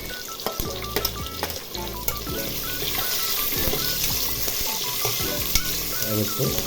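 Sliced onions fry in oil in a pan for rajma masala, a loud continuous sizzle with the scrape and clatter of a spoon stirring now and then, close by and without speech.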